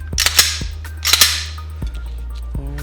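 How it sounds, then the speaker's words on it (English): A Glock pistol slide is pushed back onto the frame with a couple of sharp metallic clacks and a rattling slide, then a final click, close and loud with no talk. "And now the last step is just putting everything all back together. So put my slide back on."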